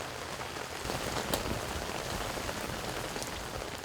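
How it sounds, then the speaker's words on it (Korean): Steady rain pours down in an even, dense hiss, close and continuous, with a brief sharper spatter partway through and no voices. "시원한 빗소리가 반가운 계절입니다."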